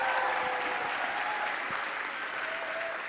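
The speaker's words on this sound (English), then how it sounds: "yeah, you can cheer for him" Esports audience at a League of Legends tournament applauding and cheering a winning player, a steady, dense wash of clapping with scattered whistles, loud and sustained throughout.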